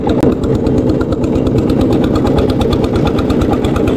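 A motor boat engine drives hard at speed on the Teesta river, a loud, close, steady throbbing drone with a rapid mechanical pulse that continues throughout.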